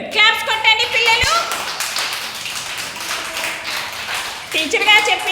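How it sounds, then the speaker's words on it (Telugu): Children clap together in an anganwadi classroom, a burst of quick uneven claps from a small group, close by, with a teacher's voice and children's voices speaking over the start and end. "Very good. క్లాప్స్ కొట్టండి పిల్లలు."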